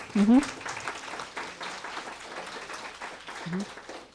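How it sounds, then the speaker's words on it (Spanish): An audience at a heritage and wine-route tourism lecture in Chihuahua applauds as a speaker is introduced. The clapping is steady and moderately loud across the whole stretch, with a brief voice near the start and another near the end. "un aplauso por favor"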